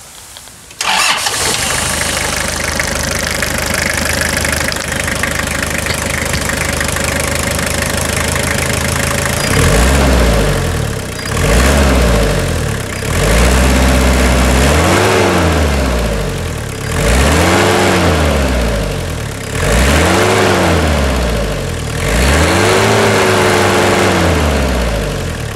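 A Toyota Hilux SR5 2.8 diesel with around 305,000 km cranks and starts, then settles into a loud, steady diesel idle with a rhythmic rising and falling drone.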